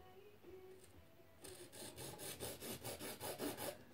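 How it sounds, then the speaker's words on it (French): A small hand file rasps around the top kit of a fishing pole, slow scattered scrapes giving way to a steady run of rhythmic, close strokes, about a dozen in quick succession. "Pour couper mon kit, je prends une petite lime. Et je viens couper tout le tour."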